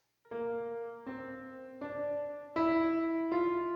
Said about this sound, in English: we get a Lydian scale, and that sounds like this.